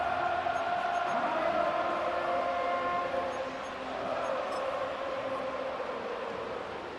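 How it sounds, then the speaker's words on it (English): A stadium crowd roars at Arrowhead in the Madden NFL 25 football video game, a loud, sustained wash of distant cheering that dips midway and then swells again. "The crowd at Arrowhead roaring."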